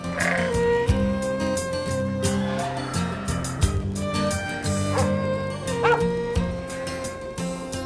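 Navajo sheep-herding dogs bark and yip near the listener in short repeated bursts, with occasional whimpers mixed in over a low background.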